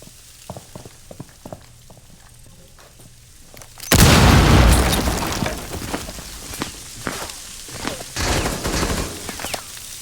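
An explosive charge detonates in Rainbow Six Siege, a sudden loud blast followed by crackling debris and scattered gunfire, with footsteps and small clicks beforehand.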